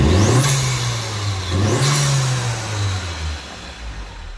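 Vauxhall Corsa E VXR engine, warmed up, revved twice in quick succession with rising then falling pitch, then a long sustained hold at steady revs before dropping back, close and loud with no talking.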